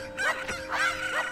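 Cuccos in the Nintendo game Ocarina of Time squawking and clucking, three rising-and-falling calls in quick succession, fairly loud with no talk over them.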